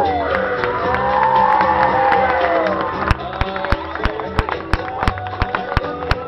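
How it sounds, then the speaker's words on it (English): Audience at a Samoan festival fashion show cheering and whooping loudly, with shouts from the crowd, then sharper rhythmic claps and thumps breaking through the cheers toward the end. "Ladies and gentlemen, a big round of applause for Parisina from the Methodist Church."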